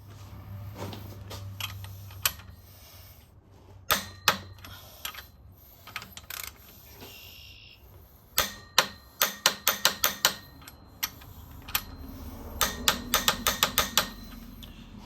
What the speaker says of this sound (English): Now we torque wrench it, 340 PSI.